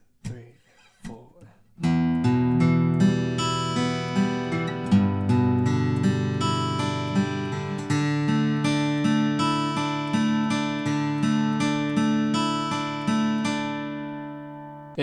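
An acoustic guitar plays a picked arpeggio pattern from the opening of a song, steady and close, with clear ringing notes and chord shapes, preceded by a few quiet count-in sounds.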